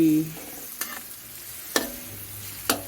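Egg fried rice being stir-fried in a pan, with a steady sizzle underneath and three crisp scrapes of the spatula against the metal at uneven intervals, close and without talk.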